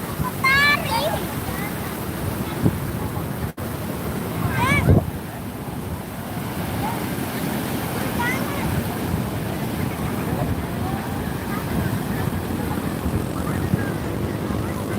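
Ocean surf at Parangtritis beach on Java's south coast, a continuous roar of breaking waves with heavy wind buffeting the microphone, and voices calling out faintly now and then.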